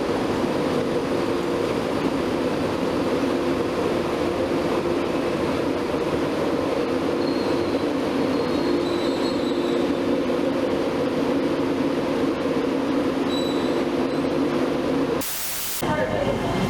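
A train on the East Coast Main Line, heard as a steady loud rushing roar with hiss and rumble that holds for many seconds before a brief break near the end.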